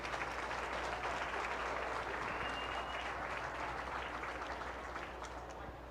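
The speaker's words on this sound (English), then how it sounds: "Please, one more time, let's give a nice round of applause for our judges today." Audience at a county fair Farm Bureau ambassador contest applauds the judges, a steady, even wash of clapping from a crowd that holds for several seconds and fades slightly at the end.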